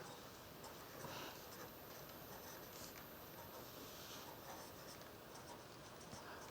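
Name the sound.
writing an email address by hand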